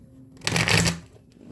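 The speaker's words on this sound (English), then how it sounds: "Shuffle these suckers on up." A deck of cards is riffled once, a rapid fluttering patter lasting about half a second, close up and with no voices.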